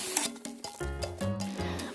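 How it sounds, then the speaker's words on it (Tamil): Masala is stirred into mutton in a hot pan, making close frying sizzle with repeated scraping and clunking stirring strokes, several in quick succession, and no voices. "மசாலா வந்து கறியோட மிக்ஸ் ஆகணும்"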